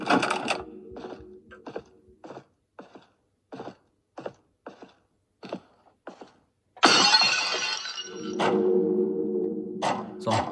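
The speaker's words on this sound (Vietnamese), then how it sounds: "Cần một chiếc búa để đập vỡ cái đó." Hammer blows from a mobile zombie shooter game, a series of sharp, evenly spaced knocks followed by a loud shattering smash that rings out and fades into a lingering crunch of debris.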